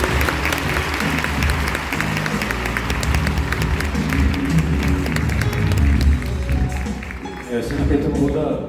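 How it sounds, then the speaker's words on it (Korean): Steady audience applause at a film festival eve ceremony in Bucheon, a dense, continuous patter of many hands mixed with crowd noise and voices, holding at an even level throughout. "자 지금까지 세 분 여러분 박수 주십시오."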